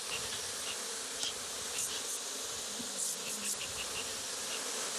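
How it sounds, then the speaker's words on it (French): Honey bee colony at an open hive, a dense continuous humming buzz of many bees at close range, steady and fairly quiet, with no voices. "J'entends le ronflement des abeilles"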